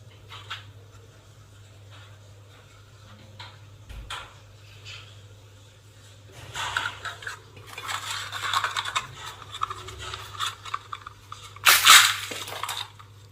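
Crispy fried golgappa puris crunch: crisp crackling crunches burst out in a cluster, loud and close, over a steady low hum, with a sharper snap near the end.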